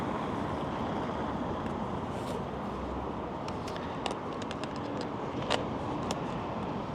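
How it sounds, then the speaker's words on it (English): Road traffic rumbles on steadily, a broad continuous wash of passing vehicles with a few sharp clicks and knocks on top, fairly loud and unbroken throughout. "Again, apologies for the traffic noise."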